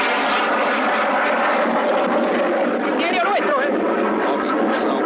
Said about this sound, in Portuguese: Nova incursão de um Harrier inglês.